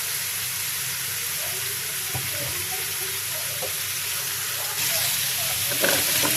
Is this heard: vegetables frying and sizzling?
yes